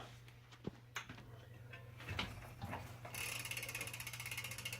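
Ratcheting clicks from a bicycle freewheel hub, compared across another couple of bikes after a 2018 Canyon Strive CF 7, run as a steady close clicking over a low hum, getting denser and louder in the final seconds.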